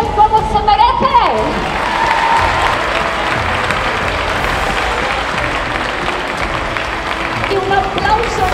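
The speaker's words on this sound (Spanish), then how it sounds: "Y un aplauso enorme para Tony." A large crowd applauds loudly at a televised cooking competition final, sustained clapping with cheers and whoops mixed in, while a presenter's voice carries over the start.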